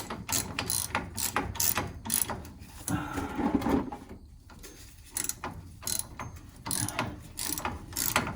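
A ratchet fitted with a 5/8 socket tightens the bolts on a Taco 007e circulator pump, giving repeated bursts of close, rapid clicking with short pauses between strokes.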